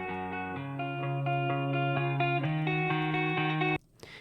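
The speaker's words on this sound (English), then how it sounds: "I wanted to record it afterwards with a real guitar" A real electric guitar with distortion and effects plays steady restruck chords, loud and up close, changing chords partway through, then stops abruptly with a short noisy tail.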